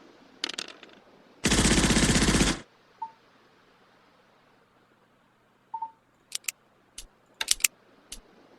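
A Panzer IV tank fires in the Nations at War Digital tabletop wargame: one loud, dense burst of about a second, set among scattered short clicks and faint tones, with no voices.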